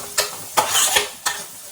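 Onions, cauliflower and tomato frying in a pan for a cauliflower tomato curry, a steady close sizzle broken by three or four sharp scraping stirs of a spoon against the pan.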